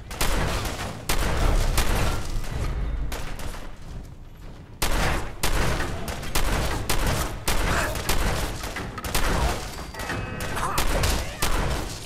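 Dense, rapid gunfire from a Fallout 4 firefight at Gunners Plaza, loud and close with sustained bursts of shots, a brief lull near the five-second mark, then renewed volleys with heavy thuds.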